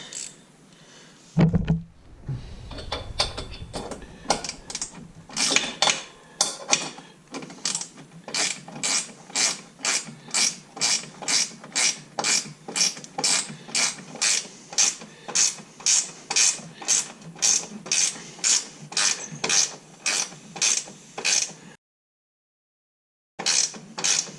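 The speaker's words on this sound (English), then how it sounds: "It's got my ratchet wrench here. Make sure I'm going the right way." Ratchet wrench tightening bolts on a rock slider for a 2024 Polaris Ranger XP 1000: a steady run of around thirty sharp ratcheting clicks in even rhythm, close and loud, ending in a brief silence and one more click.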